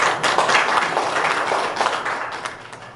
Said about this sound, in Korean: 고생하신 이광섭 회장님께 큰 박수 부탁드리겠습니다